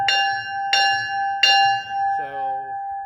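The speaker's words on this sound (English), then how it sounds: "First time in history, 58 will have a bell." The newly fitted bell on J&L 58, a steam locomotive, rings three loud, clear strikes about a second apart, each ringing on, followed by a softer, duller tone.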